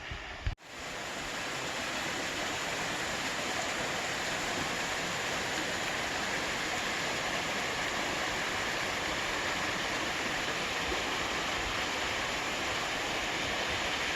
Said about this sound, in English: and then a freaking waterfall. Look at that.